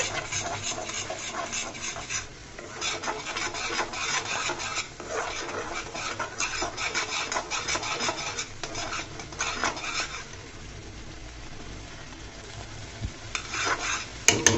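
Raw jujube pickle being stirred and turned after turmeric, red chili powder and fried spices go in, a steady, close scraping and rasping of a utensil against the pot, continuous and fairly loud, with no talking.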